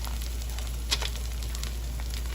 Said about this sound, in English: we're gonna let them fry for a little bit, and you'll see they'll have to become a golden brown